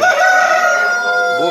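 A rooster crows loudly and close up, one long drawn-out call that bends in pitch at the end.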